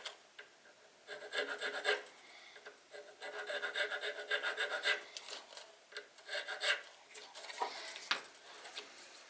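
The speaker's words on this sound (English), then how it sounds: "we're just going to do a couple passes with our nut file in the appropriate slot that we're working on" A nut file rasps back and forth through a slot in an electric guitar's nut, several short close-up scraping passes with brief pauses between them.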